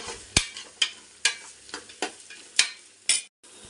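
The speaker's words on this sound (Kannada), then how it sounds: "ಇದೊಂದು ಸ್ವಲ್ಪ ಫ್ರೈ ಮಾಡ್ಕೋಬೇಕು." Onion, potato and green chili frying in a pan for veg pulao: a spatula strikes the pan in sharp, evenly spaced scrapes about twice a second over a faint sizzle, close up with no talking.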